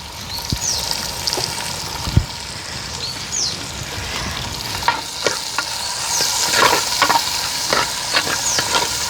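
Small onions and green chilies frying in a pan during village home cooking, a loud, steady sizzle with a spoon stirring and scraping through it in scattered close knocks.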